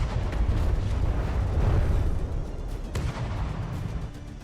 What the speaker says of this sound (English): Look at those missile volleys.